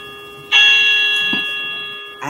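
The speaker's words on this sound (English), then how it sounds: "Like a chime from church." A single loud, church-like bell chime rings out, holding a bright sustained tone that slowly decays, with a second strike starting just at the end; no talk over it.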